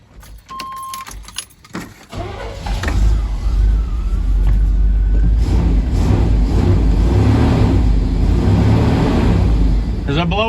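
After a jingle of keys and some clicks, a vehicle engine with a repaired muffler starts up and idles loudly nearby, a steady low rumble that carries on to the end.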